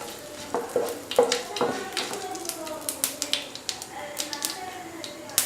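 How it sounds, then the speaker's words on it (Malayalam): Mustard seeds and dried red chillies fry in oil in a large pan, with steady sizzling and a scatter of sharp popping crackles throughout, close and fairly quiet. "മുളകും മൂത്തു, കടുകും പൊട്ടി."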